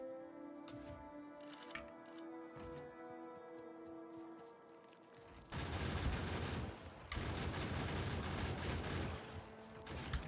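Gun turrets in the game Factorio: Space Age open fire on enemies, a dense stretch of loud rapid shots that begins midway and continues to the end, after a quieter opening of tonal game sounds.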